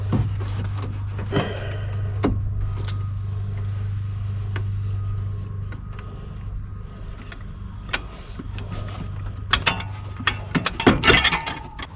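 A breaker bar with a 5/8 socket ratchets the belt tensioner on a K1500 truck engine, giving clicking mechanical turns over a steady low hum, with sharper clanks of tools near the end.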